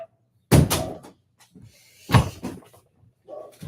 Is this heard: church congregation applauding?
no